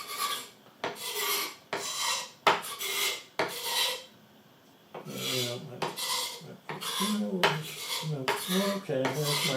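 A Victorinox utility knife blade scraping chopped onions across a cutting board, repeated harsh rasping strokes in an uneven rhythm with one brief pause, close and loud with no talking.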